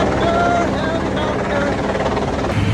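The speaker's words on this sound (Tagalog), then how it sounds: "May maglalanding na helicopter dito sa barko namin." A helicopter approaches to land on a ship, its loud continuous engine and rotor roar mixed with wind buffeting, while people talk faintly underneath.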